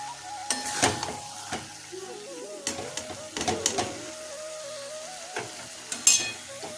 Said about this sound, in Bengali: কুমড়োটা ভাজা অলমোস্ট হয়ে গেছে, যে একটু নরম হয়ে গেছে, একটু শুকিয়ে নেব